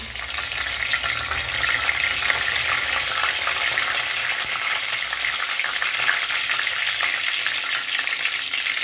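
Cinnamon, a star anise flower and two or three bay leaves sizzle steadily in hot oil for a chana masala, a continuous bright crackling frying sound with no voices.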